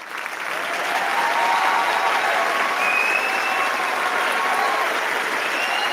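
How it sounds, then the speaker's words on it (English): An audience at a live indie game pitch competition applauds the Bookies pitch, sustained clapping swelling after a second and holding steady throughout, fairly loud and close. "Can we get a big round of applause for Bookies?"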